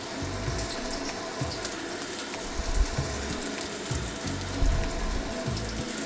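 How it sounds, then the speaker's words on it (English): A steak lies flat side down in a hot wok, searing with a steady, dense sizzle and crackle that holds at an even level throughout, with small pops now and then and no voices. "I'm laying my steak flat side down, making sure as much of it as possible is making contact with our wok here"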